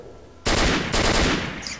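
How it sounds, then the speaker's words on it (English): In the game S.T.A.L.K.E.R., a shotgun fires two quick, loud blasts close by, each with a harsh crack and a short rolling echo, with no talk. "A shotgun, I think."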